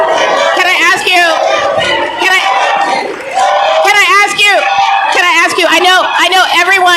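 Crowd at a DC mayoral candidates' forum whooping and cheering, bursts of loud shouts and cheers rising and falling with a short dip, then swelling again.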